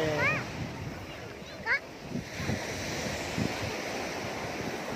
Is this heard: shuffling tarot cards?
no